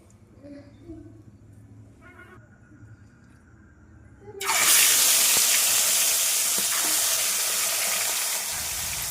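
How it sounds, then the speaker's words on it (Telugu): Fish frying in a pan for a home-cooked curry, a loud, steady broadband sizzle that bursts in suddenly and holds, after a quieter stretch with a voice talking faintly. "చేపలు ఫ్రై చేసి ఈరోజు కర్రీ వండుతున్నా"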